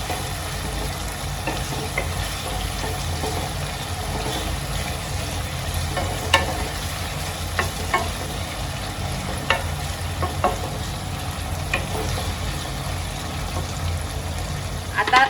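Masala rice ingredients, onions and tomatoes, sizzle steadily in hot oil in a pan, with a spoon scraping and stirring at intervals throughout.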